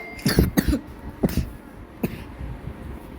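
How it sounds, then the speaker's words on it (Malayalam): Several sharp coughs close to the microphone, a quick cluster followed by a pause and one more cough. "ചുമയുണ്ട് ഗൈസ്, ക്ഷമിക്കണം"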